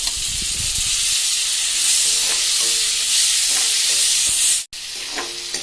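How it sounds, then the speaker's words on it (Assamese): Tomatoes frying and being stirred in a pan with spices while cooking chickpea ghugni, giving a steady close sizzle with intermittent scraping stirs and no talk. "বিলাহীখিনি গলি যোৱালৈকে ভাজি ল'ব"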